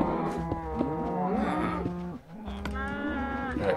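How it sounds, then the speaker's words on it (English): Cows in the Minecraft video game moo loudly and repeatedly, with several overlapping drawn-out calls, a brief gap, then more lowing close by. "the cows are so loud."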